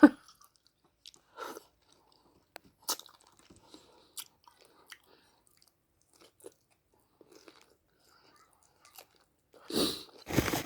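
Soft boiled pork bones crunched and chewed close up by hand, with sparse bites and crackles separated by quiet pauses, then a louder burst of crunching at the end.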